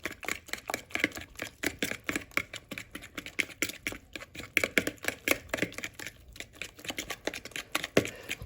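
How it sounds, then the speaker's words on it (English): Baking powder being whisked into a wet keto batter in a bowl, a fast, steady run of light clicking and tapping strokes that continues throughout, close and fairly quiet. "And then you want to just whisk that together."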